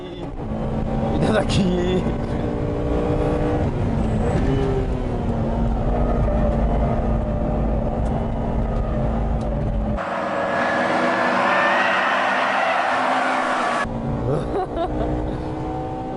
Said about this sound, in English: Going into the first corner, the 3-door Integra again passes the Impreza.